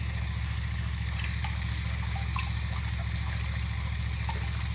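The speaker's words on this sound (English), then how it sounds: "So I'm going to just give it once more, rinse." Water runs steadily while a cyanotype print is rinsed, a constant close gush with a low mechanical hum underneath and faint splashes on top.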